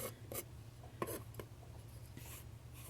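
A knife scrapes pine fatwood in short, dry strokes, several separate scratchy rasps over a quiet background hum, close to the listener.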